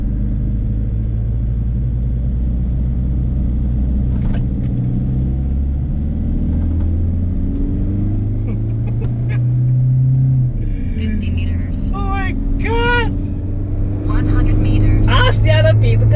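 A remapped 2.5-litre diesel turbo Toyota Hilux Vigo accelerates with a loud, rising engine drone and low rumble heard from inside the cab, with a voice speaking over it.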